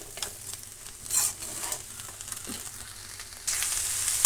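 Cabbage palya fries in a pan with a soft, close sizzle, broken by intermittent scrapes and stirs, the hiss swelling louder near the end.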